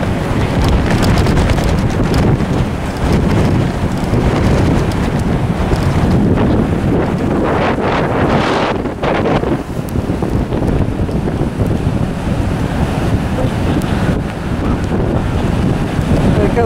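Nor'easter storm on the Delaware seashore: loud, constant wind buffeting the microphone over roaring surf, with water rushing through an inlet, steady and unbroken throughout.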